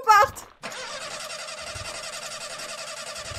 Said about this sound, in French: Mais le moteur ne veut pas fonctionner